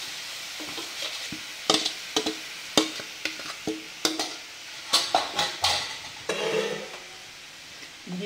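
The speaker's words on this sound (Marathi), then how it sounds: "हे मिश्रण मीडियम गॅसवर कंटिन्यू आपण हलवत शिजवून घेणार आहे" A spoon stirring and scraping a sugary lemon pickle mixture in a hot, thick-bottomed kadai over medium gas: close, irregular clacks and scrapes against the pan over a soft sizzle, with no talking.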